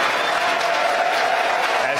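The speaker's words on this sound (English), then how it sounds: "As you can hear from the crowd cheering downstairs" A crowd downstairs cheers and applauds after a Falcon 9 first-stage separation during a Florida launch with a Dragon cargo craft, a continuous roar of clapping and voices that blends with nearby talk.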